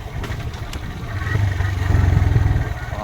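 A vehicle engine drones at low pitch on a road trip, rising and pulsing as it works through a gear change.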